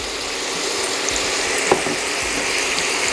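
Ackee frying in a pan with vegetables, a steady close sizzle with a faint stir or tap partway through, alone without talking.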